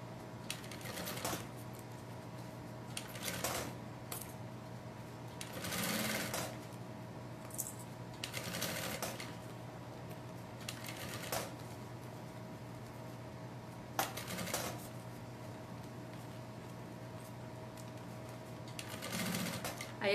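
A sewing machine stitches a toiletry bag in quick bursts of rapid mechanical chatter separated by short pauses, fairly close and moderately loud, ending with a reverse backstitch, while a person talks quietly between runs.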